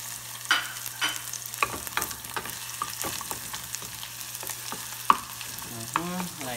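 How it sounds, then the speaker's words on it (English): Garlic and onion sautéing in a pan crackle and sizzle steadily, with irregular taps and scrapes of a utensil stirring them, close and fairly loud, alone without talk. "So just basically the garlic, and then you can add the onion one time. Just saute it a little bit and cook it up."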